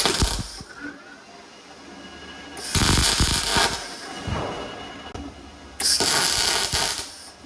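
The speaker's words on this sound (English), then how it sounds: "Let's weld those bolts on." Welding bolts onto a 1940 Chevy, with broadband crackling bursts of the welding arc around three and six seconds, quieter shop noise between.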